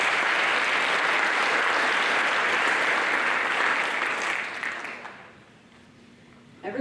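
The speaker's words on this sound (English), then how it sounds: "Let's have a round of applause for the girls cross country" A dense, loud crowd applause fills a high school fall sports banquet hall for the girls cross country team, holding steady for several seconds before tapering off into quieter room sound.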